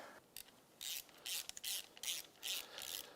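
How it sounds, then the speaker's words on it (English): A hand ratchet tightens clamps on a car's throttle body intake boots, giving quick bursts of rapid clicking strokes with short pauses between, close and clear with no talk. "Now let's get our throttle body boots tightened down,"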